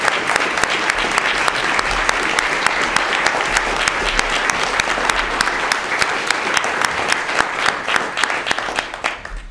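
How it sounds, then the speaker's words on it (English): A large crowd applauds steadily with dense, sustained clapping that continues throughout without pause, loud and close. "let's just give Jade a huge round of applause for that challenge."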